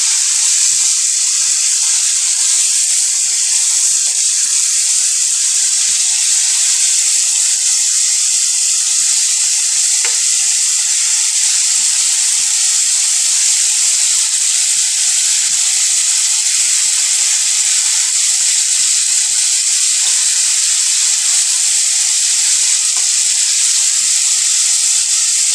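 Tikka-style chicken wings fry in a covered pan over medium heat, giving a steady, even high sizzle and hiss with faint scattered pops, running alone for the full stretch.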